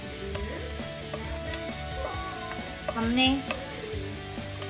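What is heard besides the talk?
bajra vada frying in a little oil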